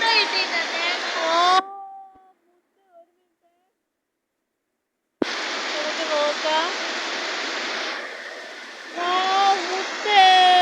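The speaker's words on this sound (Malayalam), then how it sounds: "ഓ വെള്ളം കയറുന്ന കണ്ടോ" Rainwater rushes in during a fishing outing, a broad continuous gushing roar heard near, with a voice talking over it; the sound drops out for a few seconds, then resumes just as strongly.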